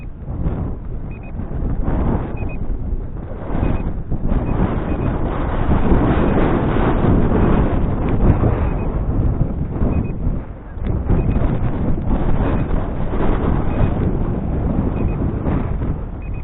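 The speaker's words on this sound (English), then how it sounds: "the wind is strong" Strong wind buffets a microphone outdoors during a GPS foldable RC drone flight, a continuous loud rumbling roar with gusty surges across the whole stretch and no voices.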